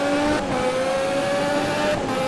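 Race car tyres squealing under acceleration in the Automobilista sim, driving a 1988 Formula 1 car at San Marino: a steady, loud high-pitched screech over a continuous engine roar, sustained for about two seconds.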